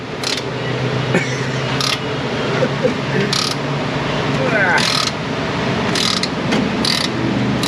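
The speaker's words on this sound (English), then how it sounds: "I'm gonna take the nuts completely off both sides." Ratchet wrench loosening lug nuts on a car in an auto repair shop, with bursts of rapid clicking ratcheting spread through the clip over a steady shop background hum and some voice.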